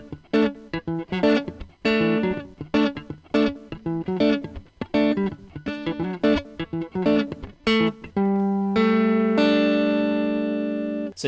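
Guitar plays bars of a song with rhythmic strummed chords in a bouncy pattern, ending on a sustained ringing sus2 chord, close and clear with no talking.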